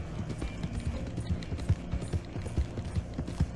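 Horse hooves galloping in the Red Dead Redemption Online video game, a quick, even clip-clop rhythm thudding close and moderately loud over a low background.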